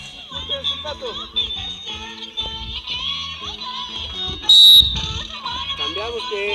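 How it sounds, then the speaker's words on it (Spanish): A coach's whistle in a physical education class sounds one loud, sharp shrill blast of about half a second. It rises over busy talk and music-like background noise in the gym. "Silbato."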